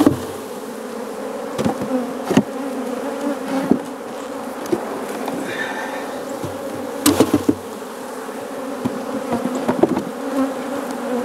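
Honeybees drone in a steady, close buzz as frames are shaken into a shaker box, with occasional sharp knocks and thumps from the shaking cutting through the hum.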